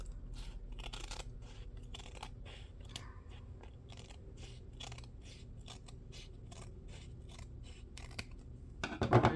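Scissors snip through paper while trimming a base for a slimline journal, a steady run of close, crisp cuts with short pauses, ending in a louder rustle.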